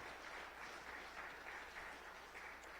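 Congregation clapping during a church service, a steady wash of applause that sounds somewhat distant and soft, continuing throughout with no talking.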